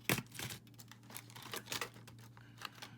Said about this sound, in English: And then I'm going to snip off that excess right there.